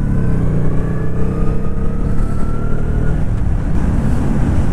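Old motorcycle engine running steadily while being ridden, a loud continuous droning hum with rising tone under heavy wind rush, no voices over it.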